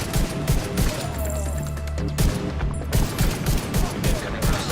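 Gunfire in The Division 2 while shooting at enemies: dense, continuous bursts of shots with a steady low rumble beneath, loud and close throughout.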